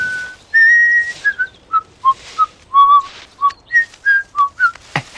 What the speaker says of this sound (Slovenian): Tudi jaz znam žvižgati.